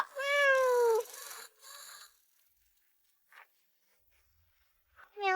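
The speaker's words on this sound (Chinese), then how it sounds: "喵喵喵" A kitten's meows: a clear drawn-out mew, then quieter short mews and another mew at the end, close and alone without talk.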